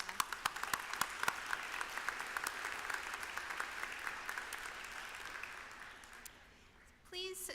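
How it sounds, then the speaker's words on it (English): Commencement audience applauding an event organizer, moderately faint, sustained clapping with a few distinct sharp claps early on, fading out before a voice starts speaking at the end. "Special round of applause for Britta."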